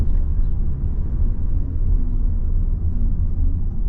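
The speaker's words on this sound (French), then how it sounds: "Et on accélère tranquillement. On lâche l'accélérateur." A car during a driving lesson gives a steady, close low rumble as it accelerates gently and then eases off the accelerator, with the drone staying fairly even throughout and no voices.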